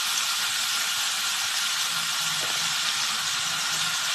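Potatoes and arbi fry in masala in a pan, giving a steady, dense sizzle and hiss that holds evenly throughout with no talking.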